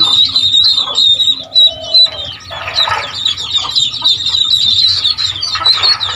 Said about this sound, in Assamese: এবাৰ আমাৰ ঘৰেৰ হাঁহ কেইজনী 17জনী পোৱালি দিছে